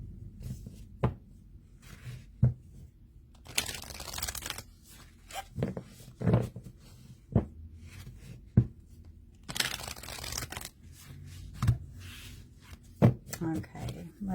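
Large oracle cards are shuffled by hand, giving soft crisp riffling and papery scuffs in irregular bursts with sharper taps between them, close and fairly quiet.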